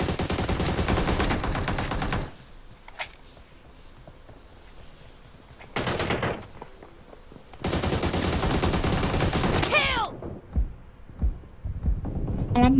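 Bursts of rapid automatic gunfire from a PUBG Mobile match, loud and dense at the start and again in a long middle stretch, with quieter gaps, single shots and sweeping effects between.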